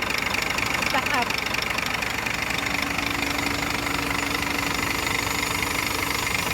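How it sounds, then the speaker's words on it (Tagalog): A truck engine idles steadily and close by after its feed pump inlet valve has been removed. A person speaks over the constant rattling drone. "Now the engine now is running, boss."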